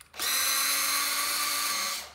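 A power drill with a large 13 mm chuck and a big two-speed motor spins up and runs steadily at high speed for about two seconds, loud and close, then winds down, with no talking.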